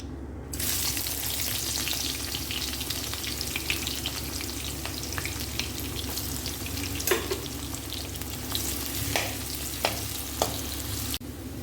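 Sliced onions frying in hot oil for a chicken masala, a steady close sizzle throughout with occasional stirring clicks, no talking.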